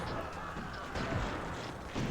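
Gunfire and artillery blasts from a Cossacks real-time strategy battle, a steady dense din of game combat with heavier booms around one and two seconds, under a speaking voice.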